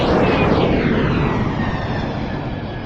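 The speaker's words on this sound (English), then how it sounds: "Let's go ahead and fire up the sponsor jet." A loud jet plane sound effect played on a livestream roars steadily throughout, a broad, dense engine rush with a slowly sweeping pitch, no talk.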